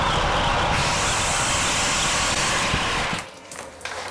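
A Makita 40V XGT hammer drill in turbo mode, speed 2, bores through wood with a 1.5-inch spade bit, giving a loud continuous roaring whine and chatter that cuts off sharply after three seconds, up close.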